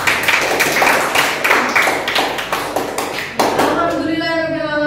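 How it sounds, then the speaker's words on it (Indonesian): A school class gives a short round of applause for a discussion group, several sharp hand claps ringing out in a room before fading. "beri tepuk tangan untuk kelompok 4"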